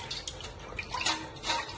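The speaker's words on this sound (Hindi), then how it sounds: "पानी डाल रही है मेरे पीछे से" Water is poured and splashes during cleaning of a home temple at Diwali, a continuous close watery trickle with small drips.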